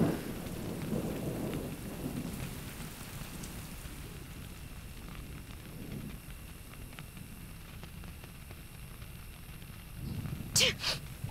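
Heavy rain pours in a steady broadband hiss, with low rumbling swells early on and a brief brighter clatter near the end.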